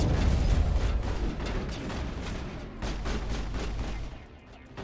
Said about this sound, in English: I'm gonna use my sniper rifle.